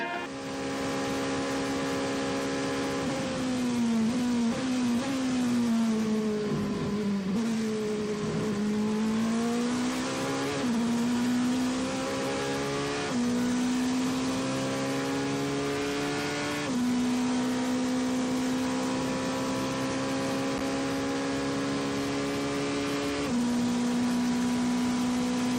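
Glickenhaus hypercar's 4.5-liter V8 engine heard from inside the cockpit at Le Mans, a loud, continuous rumbling drone whose pitch rises and falls through gear changes and revs over nearly half a minute.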